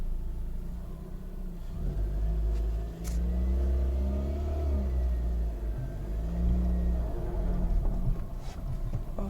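Peugeot 307 sedan with a freshly repaired clutch, its engine rumbling steadily at low revs while backing up, a close, continuous mid-pitched drone with slight rises in revving.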